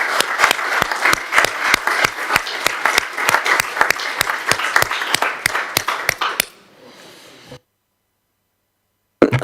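Council members applaud a councillor's maiden speech at a Basingstoke council meeting, steady loud clapping with sharp individual claps for about six seconds before fading to quiet room tone and then silence.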